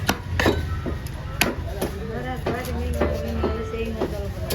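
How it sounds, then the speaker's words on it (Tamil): A whole fish is chopped into pieces for frying in a fish gravy, a series of sharp knife strikes on a board at an irregular pace, close and distinct, with someone talking throughout. "நம்ம மீனை வந்து 2 பீஸாக போடுறோம்"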